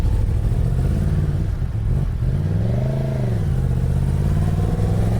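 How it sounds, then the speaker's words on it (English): Several motorcycles idle and rev near College Station, Texas, at sunrise, a steady loud low engine rumble with a rising and falling rev in the middle and no talk. "The engines rumbled to life just after sunrise in College Station, Texas."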